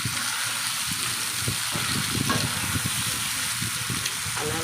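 Tomatoes frying in a pan for a tomato chutney make a dense, steady sizzle that stays loud and close from start to finish, with faint bubbling underneath.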